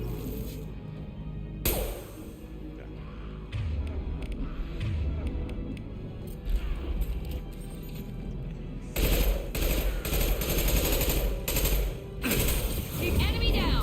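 Gunfire in the video game Mass Effect 2: repeated bursts and single shots crackle over a dense battle din, with loud sharp blasts and rapid fire clustered toward the end, while a voice talks between them.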